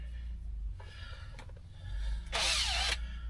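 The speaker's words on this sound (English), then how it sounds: "Alright, we're going to drill through." A power drill whirs briefly nearby, then revs into a loud, high whine for under a second as it bites through material.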